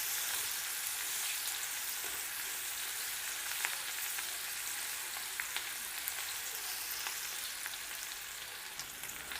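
Onions frying in a pan for an aloo baingan sabzi, a steady dense sizzle with scattered crackling pops running the whole time at close range, no voices.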